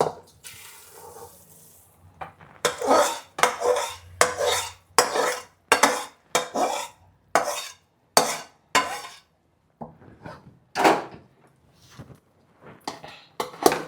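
A spoon scrapes and clinks repeatedly against a pan as warm adadiya mixture, a Gujarati sweet, is stirred at home, with steady close strokes in a loose rhythm and brief pauses between them.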